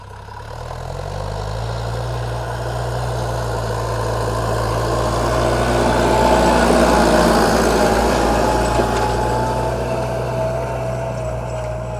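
A DTZ 5404 tractor discing a field, its diesel engine droning steadily and building slightly in loudness, heard close with no talk.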